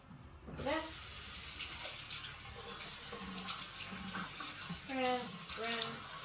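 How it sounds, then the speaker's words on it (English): Tap water runs into a kitchen sink while a cutting board is rinsed, a steady splashing stream broken by shifting gurgles and knocks of the board under the flow, with a faint voice in the background. "Let me rinse off this cutting board"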